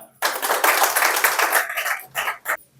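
A crowd at a real-estate team contest event breaks into a short burst of dense, close applause, which briefly drops off before a couple of final clapping flurries.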